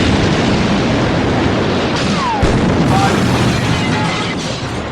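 Overlapping film explosions from the 1967 James Bond film You Only Live Twice, a dense continuous roar with a sharp burst near the middle and rumbling debris throughout, loud and without pause.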